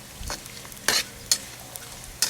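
Dried anchovies (dilis) frying in a pan, a soft steady sizzle broken by a few sharp scraping stir strokes, close and fairly quiet, no talking.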